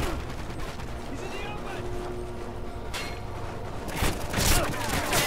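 Gunfire in a Call of Duty Ghosts multiplayer match: dense, continuous game combat noise with bursts of shots and booms that swell louder near the end.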